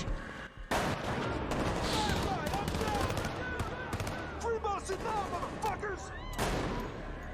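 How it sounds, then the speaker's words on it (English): Gunfire in a Last of Us TV episode: rapid bursts of shots and a fusillade crackle almost continuously, loud and close, mixed with shouting voices. "They're shooting! They're shooting at us!"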